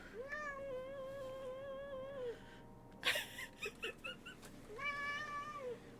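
A young cat, about a year old, lets out long drawn-out meows, one early and another near the end, with scuffling and handling noises in between, fairly close and alone without talk.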